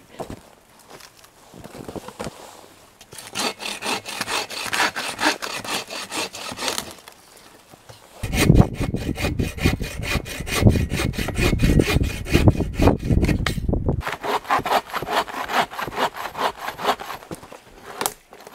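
A hand saw cuts through wood at a bushcraft camp, rasping in rapid back-and-forth strokes through two loud bursts, close and clear, with quieter handling and footsteps between.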